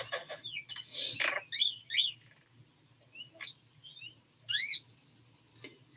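A pet starling chirps and whistles indoors in scattered bursts, with sharp tweets, squeaky calls and a longer rising whistled phrase near the end over a faint low household hum.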